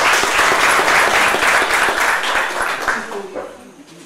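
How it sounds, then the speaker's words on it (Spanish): An audience claps warmly for a performer at a tribute event honoring a teacher, a dense burst of applause that fades over about four seconds, with some voices underneath. "Así que le damos un fuerte aplauso."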